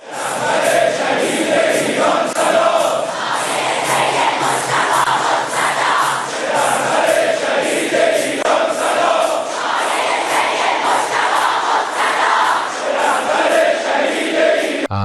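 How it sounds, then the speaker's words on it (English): A huge crowd at a large gathering roars and cheers continuously and loudly, a dense wall of many voices with rhythmic swells like chanting that holds steady throughout. "Damn, look at this crowd. Look how big it is."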